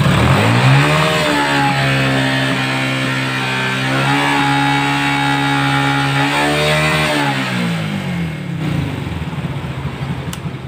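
A Yamaha Jupiter MX motorcycle engine with an overheating problem revs loudly and holds a high droning pitch, dipping and rising again between throttle bursts, close by with no talking.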